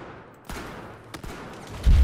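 Gunfire in Battlefield 4 strikes the player, a couple of sharp cracks at mid-distance followed by a heavier thump at the end, set against a low rumbling battlefield backdrop with no talk.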